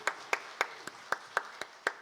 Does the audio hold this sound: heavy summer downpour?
no